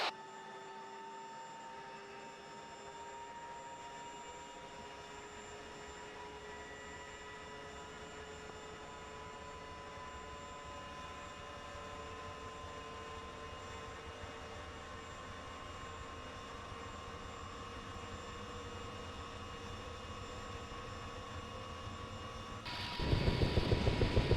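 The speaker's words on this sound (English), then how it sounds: "I'll wait for it to get fully spooled up" Helicopter engine in Arma 3 spooling up, a steady whining turbine drone with rising tonal hum that holds for most of the stretch, then swells louder and fuller near the end.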